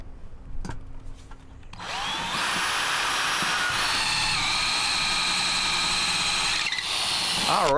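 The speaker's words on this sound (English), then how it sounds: "Now next we have to drill this center hole so that the wires can come through." A few clicks and knocks, then a power drill whirs up and runs continuously at a high, steady pitch, loud and close, boring a center hole for wires while mounting street numbers.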